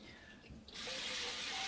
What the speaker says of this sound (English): So let me just wash this bowl out.